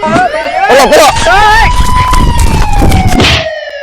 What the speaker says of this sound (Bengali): হ্যাঁ উস্তাদ পুলিশের গাড়ি আসছে